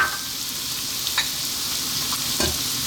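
Green beans sizzle steadily in a hot pan over lively heat, a constant frying hiss with a few soft stirring scrapes and clicks, close and alone without talk, for a vegan lentil vegetable stew.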